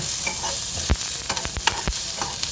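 Chopped onions sizzle in a pan for masala dosa filling, cooked until brown, with a steady close hiss broken by several sharp scraping clicks of a spatula stirring.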